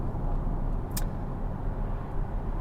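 A Jaguar XF with a red DPF warning drives along a road, giving a steady low engine and tyre rumble from inside the car, with one short faint click partway through.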